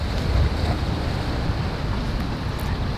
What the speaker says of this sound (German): Das Rauschen, der Wind.